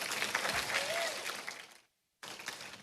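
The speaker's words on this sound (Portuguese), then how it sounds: "uma salva de palmas pro Taj de novo" A congregation at a church gathering claps for a guest, a busy wash of applause that thins out, drops to a brief silence, then picks up again.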